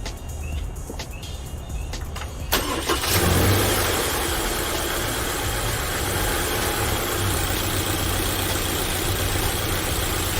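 A 2021 Subaru Crosstrek Sport starts with a brief crank, then its engine settles into a steady, close idle that runs on evenly without speech.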